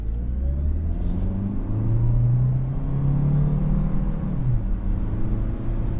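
The 2-liter naturally aspirated engine of a 2025 Hyundai Sonata Limited Hybrid rumbles and builds as the car accelerates along the road, its pitch rising steadily, with no talking.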